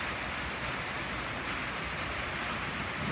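Light, gentle rain falls as a steady, even hiss with no voices.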